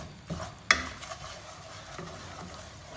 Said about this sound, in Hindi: लो फ्लेम पर ही आपने इसकी भुनाई करनी है, फ्लेम बिल्कुल भी हाई नहीं करना, और कॉन्टीन्यूसली इसके अंदर आपने चम्मच हिलाते जाना है।